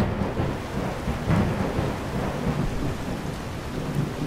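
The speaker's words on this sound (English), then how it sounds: "That storm is really loud." A thunderstorm in the video game Skyrim fills the air with steady heavy rain and deep rolling thunder, loud and continuous throughout, with no voices.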